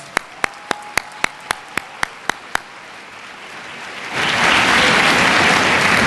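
Applause from an audience at a University of Michigan MLK Symposium keynote lecture swells in after about four seconds and holds loud and dense, preceded by ten sharp, evenly spaced clicks.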